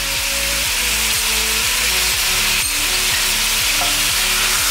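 Chicken pieces sizzle steadily in oil in a karahi, browning to golden, a loud continuous fry close by with repeated scraping stirs throughout.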